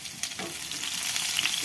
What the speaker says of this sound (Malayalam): ഇപ്പോൾ കടുക് വറുത്ത് കഴിഞ്ഞു. ഇതിലോട്ട് ഒഴിക്കുവാണേ.